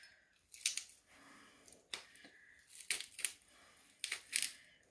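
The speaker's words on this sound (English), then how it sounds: "You can press the garlic." A garlic press crushes unpeeled garlic in a few short bursts of squeezing and crunching, close and quiet, separated by brief pauses, with no talk.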